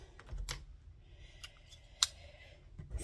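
Scissors cut through traced fabric for a wedding ring quilt block, giving a few crisp snips close by at a steady pace, spaced apart with quiet gaps between them.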